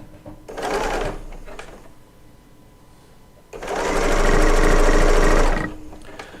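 A Bernina L890 serger sews through a quilt in two close bursts, a short whir and then a longer steady run, separated by a quiet pause with faint clicks.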